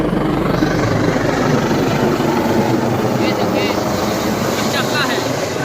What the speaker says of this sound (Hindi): स्वास्थ्य मंत्री टी.एस. सिंहदेव जी का हेलीकॉप्टर लहंगा में पहुँच चुके हैं।